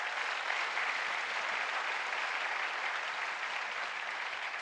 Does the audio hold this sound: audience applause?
yes